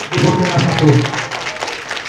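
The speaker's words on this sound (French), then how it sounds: "Applaudissons pour nos héros." A crowd at a Malian army day celebration applauds loudly for honored leaders, close, dense clapping mixed with voices throughout the short burst.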